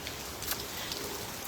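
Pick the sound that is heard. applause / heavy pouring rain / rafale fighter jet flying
heavy pouring rain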